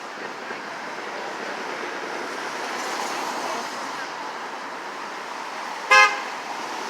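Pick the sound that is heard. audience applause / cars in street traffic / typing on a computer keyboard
cars in street traffic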